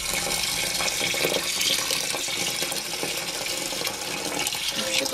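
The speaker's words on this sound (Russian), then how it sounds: "сейчас нам нужно налить воду" Steady rush of water pouring and splashing into an aquarium tank, constant and fairly loud from start to finish.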